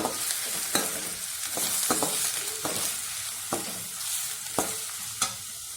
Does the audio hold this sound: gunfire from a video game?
no